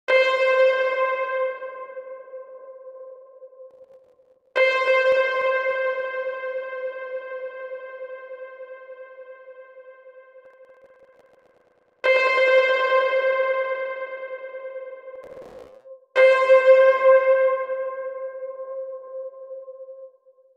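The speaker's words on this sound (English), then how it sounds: "Or we can add a bit of delay." Synth tones from a sound design toolbox are run through a delay effect: four sustained, bright harmonic notes, each starting loud and slowly fading with repeating echoes, with no voices.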